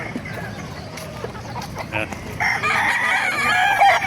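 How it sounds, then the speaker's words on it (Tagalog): Roosters crow nearby at a market in Bocaue, Philippines, one long call rising after a couple of seconds over scattered clucking and faint background chatter. "Papakita ko sa inyo mga manok dito sa Bukawi."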